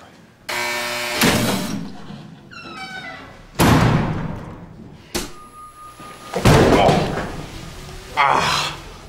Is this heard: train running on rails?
no